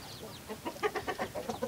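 Several hens at a feeder cluck in short, uneven bursts, fairly close and moderately loud, with no voices.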